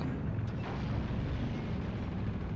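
A dense, continuous low rumble of tank cannon fire and shell impacts from Heroes & Generals, a World War II game, rolls on without a break at close, heavy volume, with no talking.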